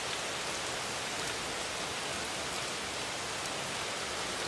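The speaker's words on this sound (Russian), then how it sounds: "Дождь не прекращается." Steady rain pours down in a dense, even hiss, constant and fairly loud throughout, with no voices.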